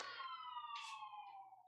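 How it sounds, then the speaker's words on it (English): Ambulance siren passing outside, a loud wailing tone sliding slowly downward as it goes by, heard alone with no talk. "Sorry for the sirens. That was an ambulance."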